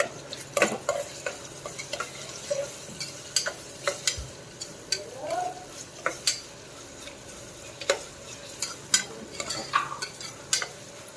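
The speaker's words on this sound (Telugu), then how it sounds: "వేపుకుందాం" Broad beans with turmeric frying in a pan, a steady close sizzle broken by frequent sharp scrapes and clinks of a spoon stirring against the metal.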